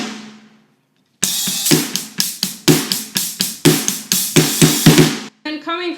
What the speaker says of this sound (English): We're going to do 2 open hi-hats with snare, and then just right left on the snare.